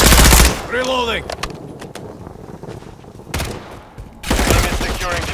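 Loud bursts of automatic gunfire from a Modern Warfare 3 multiplayer match, rapid rattling volleys at the start and end with single shots and distorted radio-style voice chatter between them.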